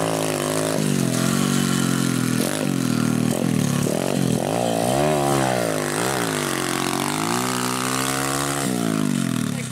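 An SSR motorcycle engine revs hard and loud, climbing in pitch through first and second gear with brief drops at each shift, then winding steadily up; the engine sound is close and continuous, with no talking.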